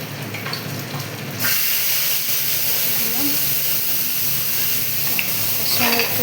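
Spice paste with bay leaf, dried chilli and whole cumin hitting hot oil, a sudden loud hiss that settles into a steady close sizzle and bubbling throughout.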